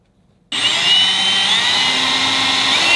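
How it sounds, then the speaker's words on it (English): After a brief silence, a power drill starts abruptly and whirs steadily at high pitch, grinding a string hole through a wooden toy top, loud and close without pause. "Now I mark where I need to drill a hole for the string"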